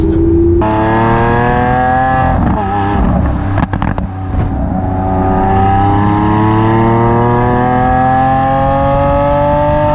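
A Lamborghini Aventador S with a revised exhaust system drones loudly from inside the cabin while driving. Engine pitch climbs smoothly through the revs, with a brief shift break partway through.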